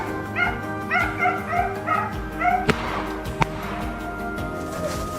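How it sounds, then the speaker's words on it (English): Hunting dogs barking during a wild boar hunt, a run of loud, close, rapid yips and barks in quick succession, then a couple of sharp knocks and quieter whimpering against outdoor background noise. "The dogs had locked onto another group, barking loudly and stirring up a frenzy."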